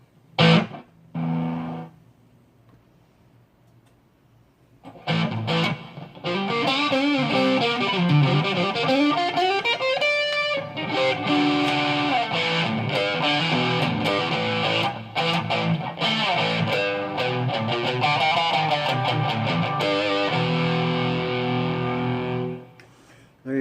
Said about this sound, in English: I'm going to try just the distortion so you can hear what this thing sounds like